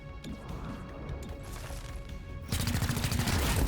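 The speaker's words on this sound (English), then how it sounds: "I think we just bonk it on the head, like so." A melee bonk to the head in XCOM Chimera Squad, a sharp game impact that lands with a loud crash near the end, over steady battle ambience with a brief burst of gunfire-like noise.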